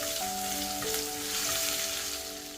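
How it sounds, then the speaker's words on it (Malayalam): Garlic cloves and crushed ginger sizzling in hot oil with popped mustard seeds while making mango pickle, a steady, close, crackling fry with a faint tonal hum behind it. "കടുക് പൊട്ടിക്കഴിയുമ്പോൾ 15 അല്ലി ചെറിയ വെളുത്തുള്ളിയും 1 ടേബിൾ സ്പൂൺ ഇഞ്ചി ചതച്ചതും ചേർത്ത് കൊടുക്കാം."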